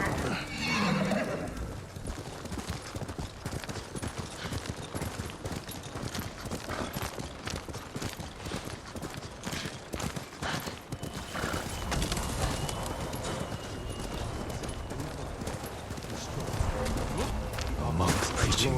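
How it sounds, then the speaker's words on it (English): A horse in the Ghost of Tsushima video game whinnies while its hooves clip-clop steadily, with voices talking over a dense, busy mix of game sound throughout. "horse!"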